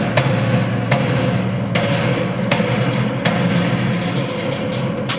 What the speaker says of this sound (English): I'm taking a small 2-pound sledgehammer